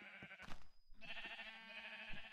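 Sheep in the video game Minecraft bleat in short wavering cries, with a couple of quick calls, a brief gap, then a longer bleat, fairly faint and alone.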